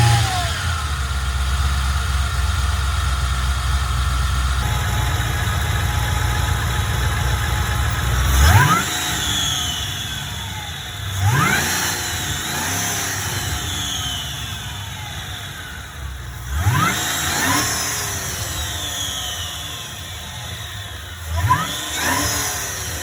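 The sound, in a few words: supercharged LS3 engine in BMW E39 idling and revving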